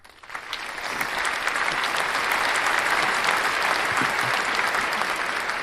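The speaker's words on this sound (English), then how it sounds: "You get a clap for that." Sustained applause from a crowd, rising quickly and holding loud and steady for several seconds during a crypto livestream.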